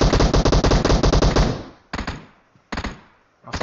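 Automatic gunfire in the mobile battle-royale game PUBG Mobile: a loud, rapid burst of shots for about a second and a half, then two short separate bursts with quiet gaps between them, no talking.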